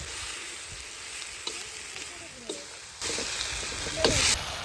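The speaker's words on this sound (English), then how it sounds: "Add in the cleaned beans and cook on low-medium heat." Cleaned beans cooking in a pan over low-medium heat for a Sri Lankan lunch give a steady, close sizzle with a few brief stirring scrapes, growing a little louder near the end.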